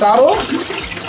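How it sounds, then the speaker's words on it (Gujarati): Water gushes steadily from a small homemade hand pump into a vessel, a close, rushing flow heard under a person speaking. "તો તમે જોઈ શકો છો ખૂબ જ ઝડપથી પાણી બહાર આવી રહ્યું છે. અને આપણો બનાવેલો હેન્ડપંપ પાણીને બહાર કાઢવામાં સક્સેસ છે"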